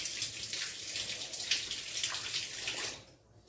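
Water gushing from a cut hose on an Aquaguard water purifier indoors, a steady hissing splash and spatter that runs continuously before dropping away near the end.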